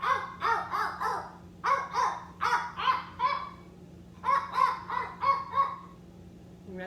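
A voice imitates a seal's bark with a series of short, rhythmic barking calls in two bursts, loud and close, with a pause between them.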